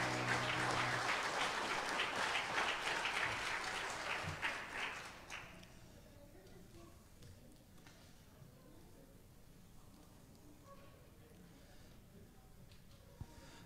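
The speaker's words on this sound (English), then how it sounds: "Let's give the moms one more hand clap this morning." A church congregation claps for the mothers during a Mother's Day morning service, a strong burst of applause that fades out over about six seconds into quieter room sound.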